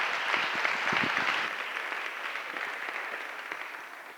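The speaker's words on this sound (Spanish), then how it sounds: "Un fuerte aplauso" An audience applauds at a lecture on Roman heritage in Hispania during the Gades Romana festival in Cádiz, September 2025, steady dense clapping that fills the room and slowly thins out over about four seconds.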